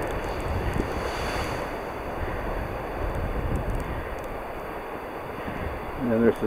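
Waves wash steadily onto a Toronto beach during a blizzard, a dense continuous roar of surf mixed with heavy wind buffeting the microphone, with no clear breaks.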